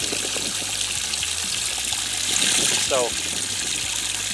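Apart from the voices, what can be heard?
water trickling into boat livewell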